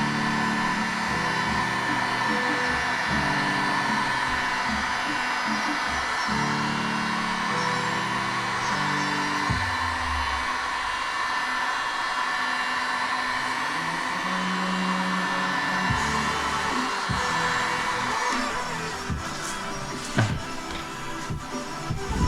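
Heat gun running in a home garage during a repair and paint job, a loud continuous blowing whir with shifting tone that holds steady throughout.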